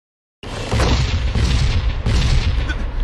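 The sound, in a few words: gunfire and explosions in BlazBlue Chronophantasma Extend video game battle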